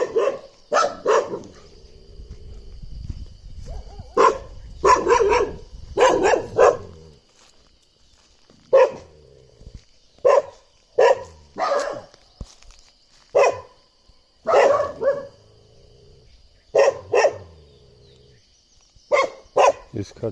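A dog barks insistently toward a hidden leopard at a jungle resort near Rajaji National Park, loud close barks coming in clustered bursts with short pauses between them.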